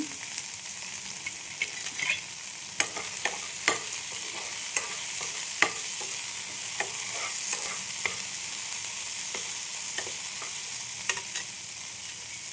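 Chilli shrimp with bell pepper sautéing in a pan: a steady sizzle runs throughout, with a utensil scraping and tapping the pan at irregular intervals, close up.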